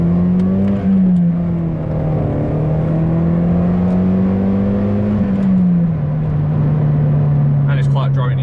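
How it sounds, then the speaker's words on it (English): Toyota Yaris fitted with a new aftermarket exhaust gives a loud, steady droning hum inside the car, the engine note rising and dipping slightly as the revs change. "since I've had this new exhaust on, it makes one heck of a blooming racket"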